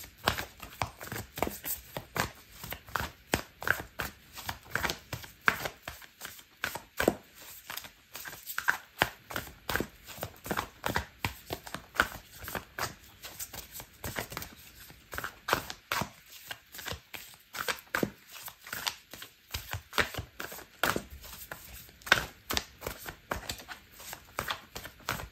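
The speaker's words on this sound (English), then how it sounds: "I'm going to pull out an oracle card for you" Oracle cards shuffled steadily by hand for a long stretch, a dense run of quick papery riffles and flicks at close range with no talking.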